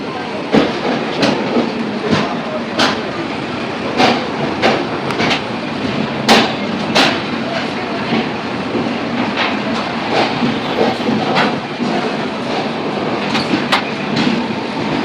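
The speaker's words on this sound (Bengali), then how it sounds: "তারপরে আবার ছেড়ে দিয়েছে ট্রেন" The Saraighat Express pulls out of Kamakhya Junction near Guwahati, its wheels beating a loud, close, steady clickety-clack over rail joints, with sharp metallic knocks repeating throughout.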